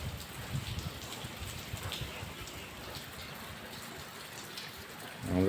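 Steady rain falls outdoors near a Hanuman temple on the way to Alang, a dense continuous patter on surfaces, moderately loud, with no voices.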